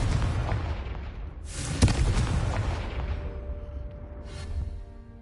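A Confringo spell in Hogwarts Legacy explodes with a sharp, booming blast, followed by a rumbling decay and a second softer burst near the end.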